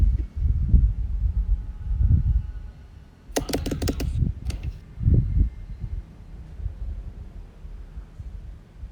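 Short burst of clattering keystrokes on a computer keyboard as a username is typed, heard over a low room hum with a few dull thumps around it.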